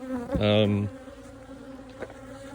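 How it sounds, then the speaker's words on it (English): Honey bees buzz around a hive at a multi-queen micro nuc in the early evening, one loud close buzz passing, then a fainter steady hum. "my bees are a little temperamental"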